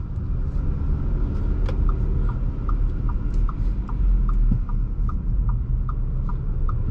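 Steady engine hum and road rumble from a 2024 Audi Q3 45 TFSI with a turbocharged four-cylinder, heard from inside while cruising, a smooth continuous drone with no rising whine.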